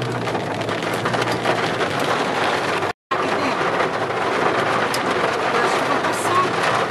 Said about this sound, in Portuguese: Se vê que é chuva localizada aqui nessa região.